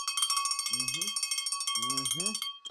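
A bright metallic bell rings continuously at a runners' medal celebration, with rapid repeated strikes close to the listener. A voice speaks briefly twice over the ringing.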